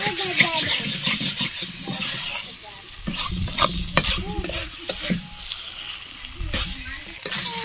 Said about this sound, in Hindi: थोड़ा सा इसको भी पूरा फ्राई कर लेते हैं पूरा आलू को भी इस मसाला के साथ।